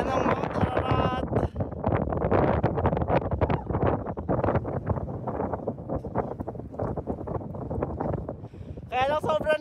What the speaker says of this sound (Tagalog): Kaya lang sobrang lakas ng hangin at sobrang lamig.